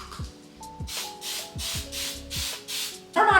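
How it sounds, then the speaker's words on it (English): Hairspray hisses onto wand-curled hair in about six short, evenly spaced bursts, close to the microphone, ending with a brief rustle. "This side gets some hairspray too."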